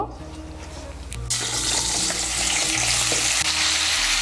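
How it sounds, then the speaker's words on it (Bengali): Unripe jackfruit pieces fry in hot oil in a wok, a loud, steady sizzle with a broad hiss that swells after a moment and holds, with a low hum beneath. "কড়াইতে যে তেল আছে এই তেলের মধ্যে এঁচোড়গুলো ভেজে নেব।"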